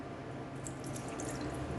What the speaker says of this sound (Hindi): देखें, इस तरीके से मैंने पानी डाल लिया है।